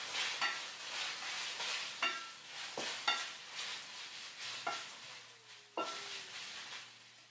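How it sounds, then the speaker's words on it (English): A spoon stirs bacon frying in a pan, with several distinct scraping strokes over a steady close sizzle. "We'll give our bacon a little stir."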